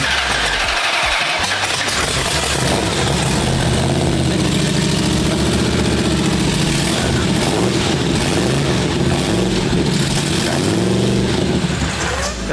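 A 500-horsepower flathead V8 in a 1932 hot rod runs loud and close, catching at first and then settling into a lumpy idle with repeated throttle blips.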